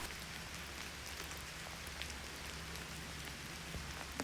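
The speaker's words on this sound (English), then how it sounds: "it's still kind of raining a little bit" Steady, faint patter of light rain falling on a tent, a soft continuous hiss with scattered drop ticks and no voices.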